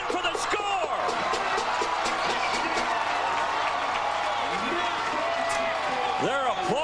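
A football stadium crowd at a 2005 Mississippi Valley State vs Alabama State game roars and cheers steadily after a touchdown, with a commentator talking over the noise throughout.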